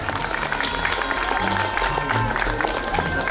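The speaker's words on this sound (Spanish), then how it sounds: "Fuerte el aplauso también para ella." Crowd applause at a patronal festival calenda in San Sebastián Zoquiapan, Oaxaca, a dense steady clatter of many hands with scattered cheers and a low band or drone underneath throughout.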